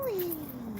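A cat gives a single drawn-out meow that slides downward in pitch, close and moderately loud, with no talking over it.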